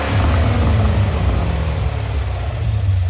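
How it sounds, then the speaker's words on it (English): Swapped engine in a Mazda Miata in Gran Turismo 7 revving hard, a loud sustained engine roar with steady low harmonics that dips slightly midway and climbs again, no speech. "that's the sound of the engine"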